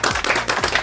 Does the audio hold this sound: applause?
yes